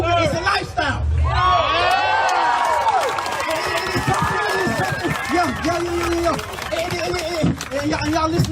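A protest crowd cheers and whoops loudly and steadily, with scattered shouts, claps and a speaker's voice cutting through the roar.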